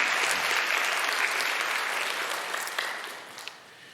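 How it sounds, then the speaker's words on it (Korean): Churchgoers clap during a Sunday worship service to welcome members, a full steady round of applause that slowly thins and fades toward the end. "여러분 환영의 박수 부탁드립니다"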